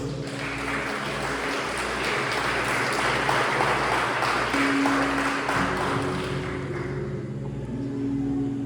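A church congregation applauds together in a large hall, a dense, sustained wash of clapping that holds steady for several seconds with a low rumble underneath.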